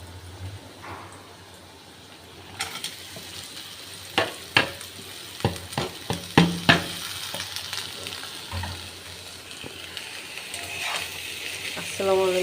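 Bitter gourd (karela) fries in a pan as it is stirred, a steady sizzle punctuated by scraping and clacking strokes of the spatula, fairly close.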